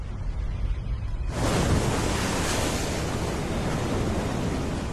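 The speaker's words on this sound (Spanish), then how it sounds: "Hombres, animales y plantas sufren la violencia del viento y del mar." Hurricane wind and crashing sea waves near the Maya coast, a sudden surge into loud, continuous roaring surf with heavy wind buffeting the microphone, sustained and dense throughout.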